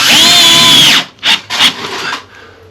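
A power drill drives screws through plastic: a sustained high whine for about a second, then two short, sharp bursts as the screws bite and seat, loud and close.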